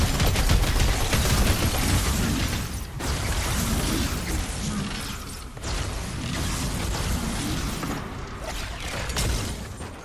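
Dense gunfire from a Fortnite match during a casual stream with friends, loud sustained bursts and rattling volleys layered with game effects, filling the whole stretch with only brief dips.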